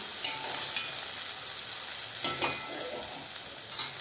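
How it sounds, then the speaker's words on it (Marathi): Colourful mixed vegetables sauté in ghee for a restaurant-style Kashmiri pulao, giving a steady close sizzle broken by a few soft stirring scrapes, with no voices. "रंगीबेरंगी असं आपल्या या व्हेजेस छान तुपामध्ये परतून घेऊया"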